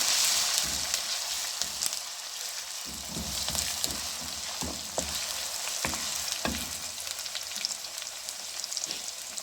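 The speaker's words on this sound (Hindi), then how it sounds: "अब मैं इसके अंदर अदरक लहसुन का पेस्ट ऐड कर रही हूँ। तो हम थोड़ा सा भून लेंगे।" Steady sizzling and crackling of ginger-garlic paste frying with onions in a pan, with occasional stirring scrapes, close and continuous with no talking.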